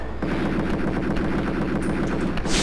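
Rapid, sustained machine gun fire from the 2011 Spear Resurrection video game, a dense continuous burst of loud shots throughout, no talk.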